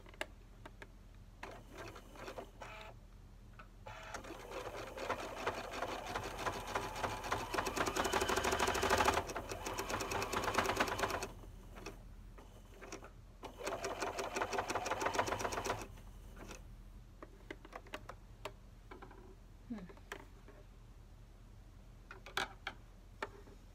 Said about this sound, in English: I will turn it over and finish it off with a zigzag stitch so that the edges are neat.